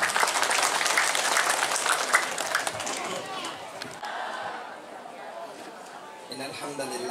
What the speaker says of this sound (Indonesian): Boleh Bapak Ibu kita beri tepuk tangan yang meriah.